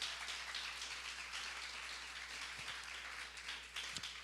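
A church congregation applauds in a dense, steady wash of many hands clapping, sustained and fairly distant, over a low hum, with no speech.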